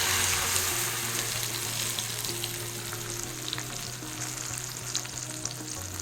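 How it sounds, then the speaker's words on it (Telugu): Mustard seeds, fenugreek, cumin, dried red chillies and asafoetida crackle and sizzle in a little hot oil for a wood apple chutney tempering, a close, steady frying hiss with faint pops and stirring, and no talking. "ఇది పోపు అండి, ఆవాలు, 2 మెంతి గింజలు, జీరా, ఎండుమిరపకాయలు, కొంచెం ఇంగువ వేస్తానండి, కొంచెం మాత్రం నూనె వేస్తాను"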